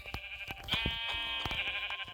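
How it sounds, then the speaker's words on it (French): A sheep in a video game, apparently Minecraft-style, lets out one long harmonic bleat in the middle of the clip, with sharp footstep and click sounds from gameplay before and after it. "Un mouton!"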